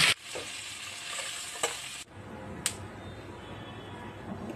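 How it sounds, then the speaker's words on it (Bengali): Koi fish frying in hot oil for a spiced dish, giving a steady close sizzle with a few sharp spatters and stirring clicks, louder for the first two seconds then settling to a softer continuous crackle. "তেল কই রাঁধতে গেলে মাছটা অল্প অল্প ভাজতে হয়"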